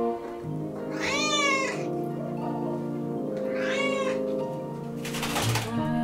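Adult cats in a shelter room give two drawn-out meows a couple of seconds apart, close and clear over a steady background hum, followed by a brief rustle.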